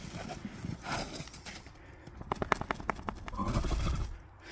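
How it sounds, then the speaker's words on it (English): A furry horse rolls in snow, making a run of rhythmic, close scraping and thudding sounds that build and then settle into a softer rustle. "I don't know how a horse is rolling in the snow so well."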